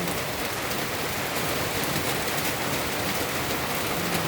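Steady, heavy rain pours down in a constant dense hiss, with no voices and no letup.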